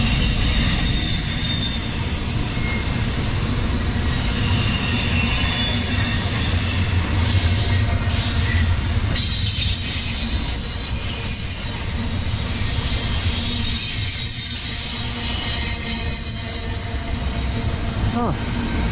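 A long freight train rolls eastbound through Edison, New Jersey close by, a loud sustained rumble with squealing wheels and rattling cars throughout.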